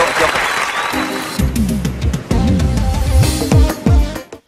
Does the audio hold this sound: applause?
yes